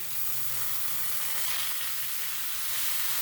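Crushed cumin seeds fry in a pan with oil as a steady, even sizzle that holds constant and fairly close throughout, with no voices over it.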